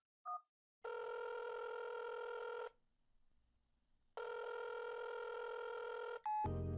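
Telephone dialing tones on a landline: a short blip, then two long sustained multi-tone bursts separated by a quiet gap, ending with a brief beep and a low tone, loud and close with no voices.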